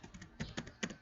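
Several quiet, brisk keystrokes tap on a computer keyboard in an uneven burst, close to the mic and with no talking.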